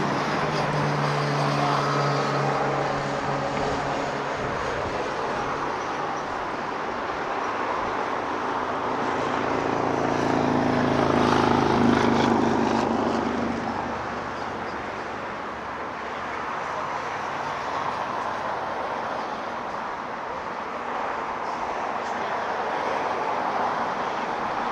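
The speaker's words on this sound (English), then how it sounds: "There's the Virgin Atlantic. Pulling in to Tom Bradley from London Heathrow." A Virgin Atlantic airliner from London Heathrow taxiing in to Tom Bradley terminal at LAX, its engines a low rumbling whine that rises to a louder pass midway, then settles back into steady background noise.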